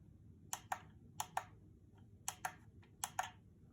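Power button on a SilverStone VT02 case pressed repeatedly, crisp paired clicks in four quick sets, close and clear over a quiet background.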